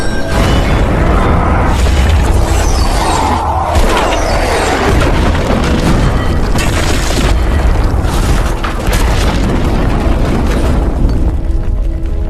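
Gas cylinders shot and blowing up in a Free Fire gangster battle, a loud, sustained roar of booming blasts and rumbling debris with crackling bursts, filling the whole stretch without pause.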